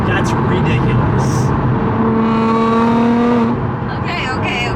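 A car engine roars loudly and steadily at high revs, its pitch holding and then climbing slightly before easing off, with people talking over it.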